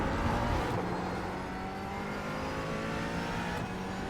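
McLaren 570S GT4 race car in iRacing at Laguna Seca, its engine droning steadily at high revs under acceleration, close and continuous with no talk.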